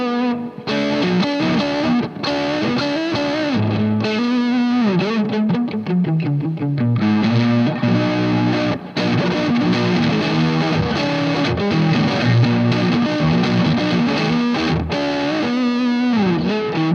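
Electric guitar fitted with vintage noiseless pickups, played through heavy distortion with some effects, loud sustained chords and riffs ringing continuously with brief breaks.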